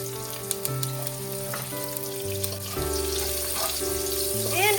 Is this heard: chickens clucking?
no